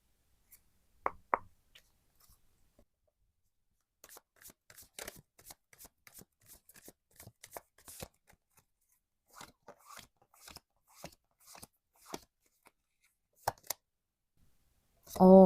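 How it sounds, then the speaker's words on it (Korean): Tarot and Lenormand cards shuffled and drawn in a quiet room, with crisp close riffles, slaps and taps coming in short irregular bursts between silences, ending with a louder handling noise. "제가 레노먼드랑 타로 카드랑 두 가지로 뽑을 건데 두 가지를 한꺼번에 뽑고 설명을 좀 드릴게요."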